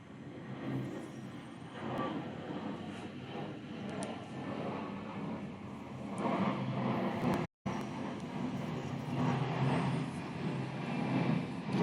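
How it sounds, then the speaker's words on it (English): Loud, steady airplane drone passing overhead outdoors, a broad continuous roar that swells slightly toward the end with one brief dropout, no talk over it. "That's a plane flying overhead."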